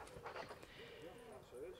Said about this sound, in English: Excuse the panty dog.